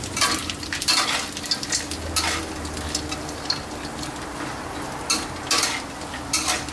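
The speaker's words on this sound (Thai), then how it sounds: "ตั้งกระทะนะครับแล้วก็เอากากหมูลงไปทอดอีกรอบนะฮะ" Pork cracklings refrying in a pan on the stove, a steady close sizzle with scraping, rattling stir strokes over it, no talking.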